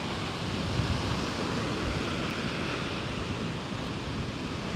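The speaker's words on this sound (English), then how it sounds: "I love it. I love the ocean." Ocean waves wash steadily onto the shore in a loud, continuous roar of surf with a windy hiss, and no voices.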